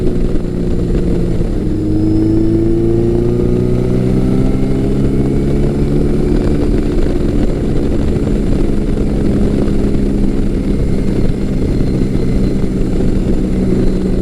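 A Yamaha XJ1100 Maxim motorcycle ridden on Pennsylvania back roads, its engine droning steadily with gradual rises and falls in pitch under heavy wind rush, loud and continuous.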